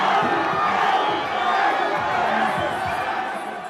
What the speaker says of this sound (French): La foule alors exulte.